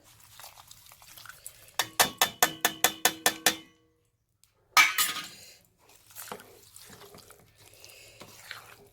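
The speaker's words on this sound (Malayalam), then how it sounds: "നല്ലോണം ഇളക്കുക" Curd rice being stirred in a pot, with a rapid run of sharp spoon clinks against the pot, a pause, then a louder scrape and softer wet stirring sounds.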